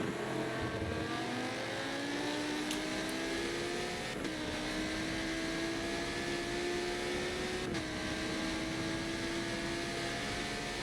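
A Lamborghini race car in a Silverstone 12-hour endurance racing game, its engine droning steadily at high revs with gear shifts marked by brief pitch drops, continuous and loud.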